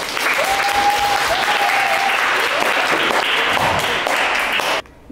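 A crowd applauds to welcome the chairman as he takes over the third session of a student-recruitment orientation for the 37th AdFlash intake. The clapping is dense and steady for nearly five seconds, then stops abruptly.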